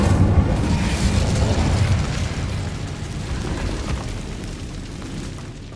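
Incendio fire spell cast in Hogwarts Legacy, a loud, steady roaring burst of flame that holds for several seconds and slowly tapers, with no voices over it.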